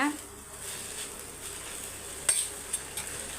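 Moringa leaves, small stems and all, sauté in a pan with a soft, steady sizzle that stays faint and low throughout, with a couple of brief utensil clinks near the end.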